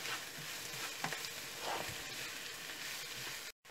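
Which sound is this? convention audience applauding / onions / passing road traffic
onions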